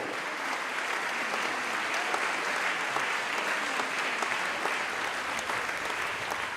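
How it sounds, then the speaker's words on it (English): Sustained applause from a large crowd in Derry greets a new anthem, a dense, steady wash of clapping that holds evenly throughout without fading. "The applause for this new anthem to Derry spills out into the city."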